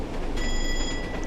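A brief cab bell rings out in a class 101 diesel train in Train Sim World 2, a short bright tone lasting under a second over the constant low rumble of the running train.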